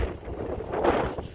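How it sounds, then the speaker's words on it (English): Wind buffeting a microphone outdoors beside a cell tower in Jefferson, a steady low rumbling roar that swells and fades slightly with gusts, with no voices. "It's too windy out here."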